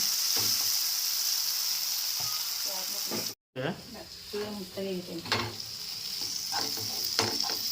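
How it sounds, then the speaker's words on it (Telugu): Chopped tomatoes and onions fry in a pan with a continuous close sizzle, stirring scrapes and light clinks of utensil on metal, with a brief dropout partway through. "టమాటా కూడా చిన్నగా తరిగింది అది కూడా ఒక మంచి ఫ్రైగా ఫ్రై అయిన తర్వాత"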